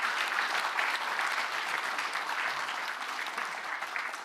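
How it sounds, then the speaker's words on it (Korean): Steady, dense applause from an audience at a public policy town-hall forum in Gangwon, a continuous even wash of clapping that fades slightly toward the end. "이럴 때 박수 한번."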